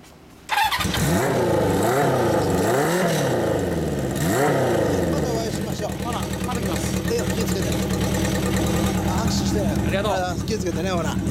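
A 1975 Honda Dream CB400 Four with a 408cc inline-four fires up close by and is blipped through several sharp revs that rise and fall, then settles into a steady idle with a raspy exhaust note.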